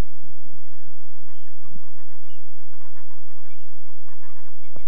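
Gulls at a shoreline rookery by giant cottonwood trees in a quiet forest, calling over one another in a constant, close, busy chatter of overlapping honking cries.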